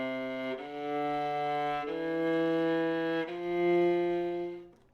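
A viola plays four separate detached notes in sequence, each bowed tone sustained and clearly separated by brief breaks, rising step by step, close and clear with no talking.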